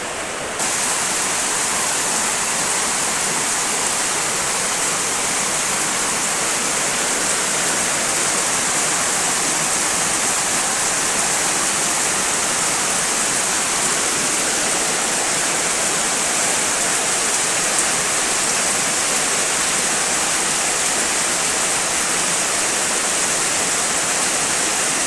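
Water pouring steadily down into a room indoors, a continuous broadband splashing rush that stays loud and even throughout, with no voices over it.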